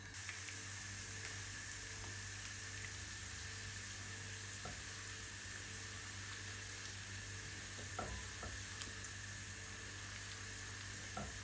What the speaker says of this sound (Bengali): রসুনটাকে ভেজে একদম ব্রাউন কালার করে নিব।